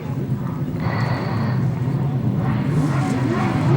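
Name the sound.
grasstrack racing motorcycles revving at the start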